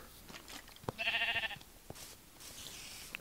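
A sheep bleats once in Minecraft, a short wavering cry of about half a second standing out over quiet game background with a few small clicks and thuds.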